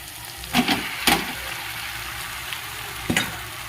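Spicy chicken pasta is stirred and tossed in a hot pan, a steady low sizzle broken by three or four brief scraping clatters of the spoon against the pan.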